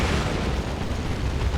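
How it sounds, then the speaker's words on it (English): Grenade-like stick bombs bursting in Dawn of War 2 during a 3v3 battle against Terminators, a dense continuous rumble of explosions and boom noise filling the whole stretch at steady loudness, with no talk. "Stick bombs chucking in some bombs."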